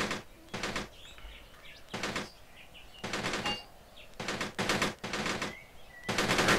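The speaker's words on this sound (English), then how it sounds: "that guy just wasted an entire clip just firing into the dirt here" Repeated bursts of automatic gunfire from the war game Graviteam Tactics, about six sharp volleys of rapid shots spaced a second or so apart, with faint chirping between them.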